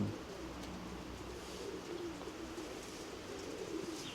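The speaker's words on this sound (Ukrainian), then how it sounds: "це стальнорябий голубок, бачите, у нього там одна біла виросла" A steel-grey pied pigeon coos in a low, continuous murmur, close and fairly quiet, with soft background noise throughout.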